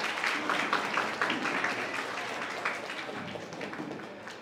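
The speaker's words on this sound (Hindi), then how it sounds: "कृपया तालियों से स्वागत करें।" An audience at a school event in Versova applauds to welcome a guest, a fairly quiet, continuous patter of many hands clapping that slowly fades, heard at some distance.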